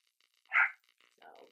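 A single sharp, loud dog bark, followed a moment later by a softer, lower yelping sound.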